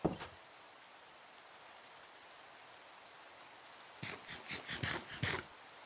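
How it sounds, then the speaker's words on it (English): Rain falls in Minecraft as a faint, steady hiss, with a brief patter at the start and a cluster of louder drop-like splashes near the end. "Aw, this is lovely rain."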